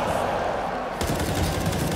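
Rapid gunfire shot through a wall in the Counter-Strike video game, a dense burst of loud cracks right up close over constant crowd and game noise.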